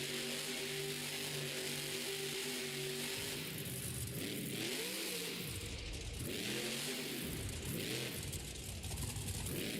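Monster truck engine at a Monster Jam show in Dresden, a steady drone that breaks into repeated loud revving surges over constant crowd and arena noise.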